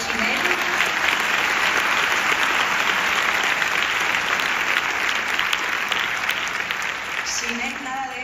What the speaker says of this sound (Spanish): ya de momento le mencionamos y le damos un aplauso